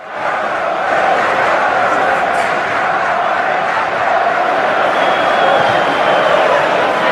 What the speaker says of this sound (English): I need a bit of the crowd at Dean Court to get behind the lad